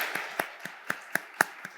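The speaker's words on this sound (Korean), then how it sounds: "우리 축하하고 축복하면서 박수 한번 하겠습니다." Church congregation clapping together during a Sunday worship service: about seven sharp, evenly spaced claps about a quarter second apart, fairly quiet and a little distant, with no talking.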